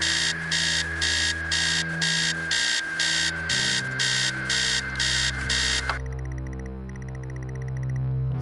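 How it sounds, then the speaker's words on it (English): An alarm clock blares upstairs in the game Stories Untold, a loud rapid pulsing electronic beep repeating steadily for several seconds before the tone shifts into a warbling buzz over a low droning hum. "Upstairs, the sound of an alarm clock blaring."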